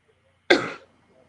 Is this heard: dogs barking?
no